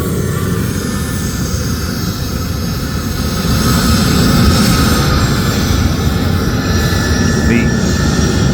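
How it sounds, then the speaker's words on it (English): A private jet taking off after rolling out of its own hangar gives a loud, continuous roaring jet engine rush that swells slightly midway, heard from nearby outdoors with voices talking over it. "Private jet taking off."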